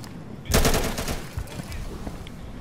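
Gunfire in Insurgency: a sudden loud burst of rapid shots followed by scattered nearer and farther single shots, with faint voices mixed in.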